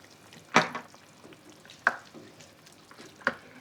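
Thick coconut cream gets mixed into curry paste (bumbu) in a pan for a coconut curry. Three separate spoon scrapes and knocks land about a second apart over a faint low sizzle, close up, with no voices.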